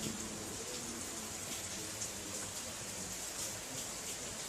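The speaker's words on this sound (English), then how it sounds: "I'm gonna show you the rain." Rain falls steadily by the sea in Jamaica, a soft, even hiss of drops pattering on surfaces, faint and unbroken with no voices.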